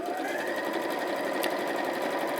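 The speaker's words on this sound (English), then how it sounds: "I'm sewing the border across the top of the bag" A sewing machine runs steadily, stitching a border across the top of a fleece bag through a thick layer, its fast even whir continuing without pause from start to finish at close range.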